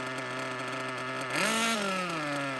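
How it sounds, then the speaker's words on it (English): An engine running on a break-in machine idles with a steady harmonic drone, then gets a quick throttle blip that briefly raises its pitch and loudness before it settles lower again. "Gives a quick throttle to clear it out. It closes the exhaust port, shuts off the engine"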